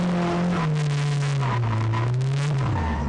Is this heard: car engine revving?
yes